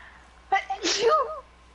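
A single sharp sneeze, close and loud, with a quick inhaled build-up before the burst.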